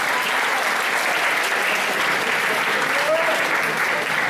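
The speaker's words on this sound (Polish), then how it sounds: "niech usłyszą te brawa gdzieś tam daleko" An audience claps steadily through a continuous round of applause at a school music video premiere event in Zbąszynek, with a faint voice briefly audible beneath it.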